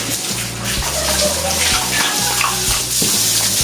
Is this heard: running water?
yes